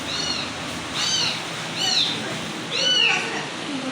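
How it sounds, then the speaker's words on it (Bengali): A cat inside a small animal shop meows four times in a row, evenly spaced, each call rising and then falling, clear and close over a steady background hum. "বিড়ালটা"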